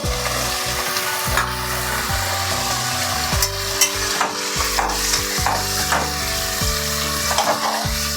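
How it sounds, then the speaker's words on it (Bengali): Brinjal frying in a pan for a vegetarian brinjal bahar, with loud continuous sizzling and repeated spatula scrapes and knocks against the pan, close and without speech. "আমার কষানোটা হয়ে গেছে, এবার আমি বেগুনটা দিয়ে দেবো এতে।"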